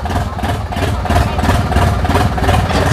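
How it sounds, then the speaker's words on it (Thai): A Yanmar three-cylinder turbo diesel engine powers a hydraulic rice leaf cutting machine, running steadily at a low rumbling idle, close and loud, with a continuous throb throughout. "ใช้เครื่องยนต์3สูบครับ"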